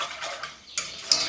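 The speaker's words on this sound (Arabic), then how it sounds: "ونبقى نحرك" A spoon stirs a flour-based white sauce in a pot over a medium flame, giving soft scraping swishes with a few brighter clinks of metal against the pot, close and brief.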